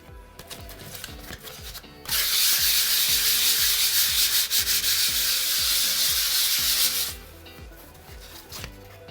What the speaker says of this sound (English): So I've sanded that down now